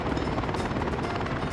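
Helicopters in the city-building video game Workers and Resources, a loud, steady rotor whir with a fast chopping pulse that stays constant throughout, with no speech.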